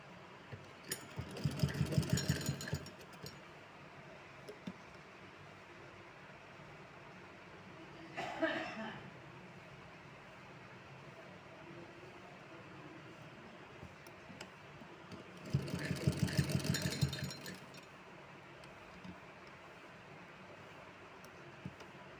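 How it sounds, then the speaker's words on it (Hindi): A sewing machine stitches along a folded fabric edge for a small dress, in two faint runs of about two seconds each, with a brief mechanical sound between them over quiet room background. "नीचे जो हम फोल्ड करेंगे उसके किनारे किनारे पर ही सिलाई लगाएंगे"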